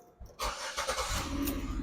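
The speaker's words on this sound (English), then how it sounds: "Last thing we want to do is start the car." A Chevy Malibu's engine cranks briefly and catches, settling into a steady, fairly loud idle close by with no talk over it.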